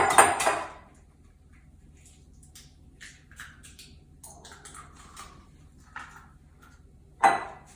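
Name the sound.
cracking two eggs into a bowl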